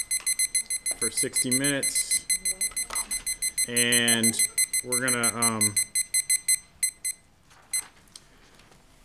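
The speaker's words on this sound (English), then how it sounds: "I'm going to set this really loud timer" A loud timer alarm beeps in a steady rapid train of electronic pulses at a meeting, running nearly the whole time, while people speak over it in stretches before it fades to a few scattered beeps.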